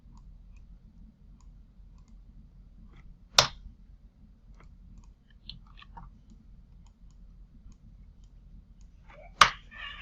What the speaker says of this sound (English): So you can see I'm right clicking and clicking the layer